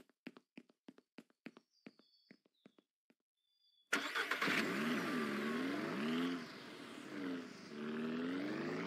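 A car engine starting in the video game Ranch Simulator: a run of light clicks and taps, a brief pause, then the engine catches and settles into a loud, steady idle with revving swells.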